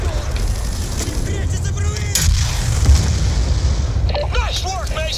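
Grenade blast in the Black Ops 2 campaign, a loud booming burst around the middle of a dense wash of gunfire and battle rumble, with voices talking over the din.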